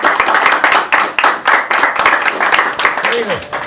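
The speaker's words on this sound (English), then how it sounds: "Give it applause to Joe, guys." Crowd applause for an audience member named Joe breaks out during a talk about a band, loud bursts of clapping in uneven pulses, with a voice speaking over the tail end.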